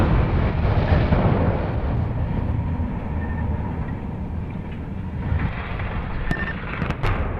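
Explosive demolition of a smokestack at the Nanticoke coal generating station produces a loud, sustained, rolling rumble and roar heard from a distance, with a few sharper cracks near the end.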